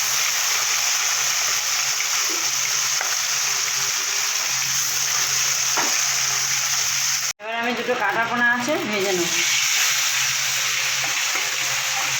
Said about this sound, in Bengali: ভোলা মাছগুলো আমার ভাজা হয়ে গেছে হালকা করে